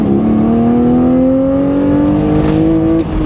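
An E85 BMW Z4 3.0i engine revs up loudly under hard acceleration with wheel spin, its tone climbing steadily close to the microphone before easing off at the end.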